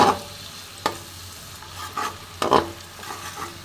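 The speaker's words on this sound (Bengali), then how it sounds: "খুব সুন্দরভাবে একটু কষে নেবো।" Spice paste sizzles in a pan after water is added over a raised flame, with a soft frying hiss punctuated by several sharp spatula scrapes and stirs, close and with no voices.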